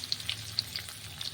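Okra (lady's finger) frying in a little oil in a pan, a faint steady sizzle broken by a few light crackles and pops, with no talking.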